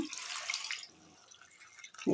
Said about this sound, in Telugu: ఇన్ని నీళ్ళు పోసుకొని ఉడకబెట్టుకుందాం